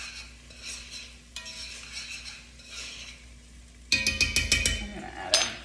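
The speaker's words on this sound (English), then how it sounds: "All right, stir those for about a minute" Diced jalapeños stirred in a pan with oil over heat, a soft steady sizzle with a faint hum, then louder clattering utensil scrapes and clinks against the pan near the end.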